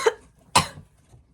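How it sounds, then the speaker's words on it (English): Two sharp, close coughs about half a second apart, the second harsher and longer, with no talking. "I got a coughing spell there"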